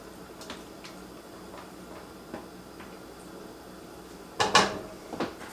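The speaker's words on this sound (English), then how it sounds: "I'll just pop this in the skillet." Leftover breakfast sausage dropped into an unheated skillet gives a sudden clatter and thump near the end, after a few faint ticks in a quiet kitchen.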